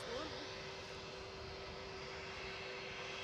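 An airplane taxis at Edinburgh Airport, its engine a steady, close droning roar with a constant whine that holds unbroken throughout, and a brief voice near the start.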